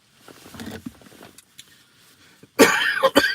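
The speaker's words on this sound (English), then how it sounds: "It's a really bad cough." A person with a bad lingering cough lets out a few loud, harsh coughs at close range near the end, after quieter throat sounds and rustling.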